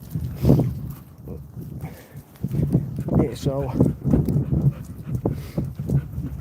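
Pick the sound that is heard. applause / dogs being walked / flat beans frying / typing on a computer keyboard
dogs being walked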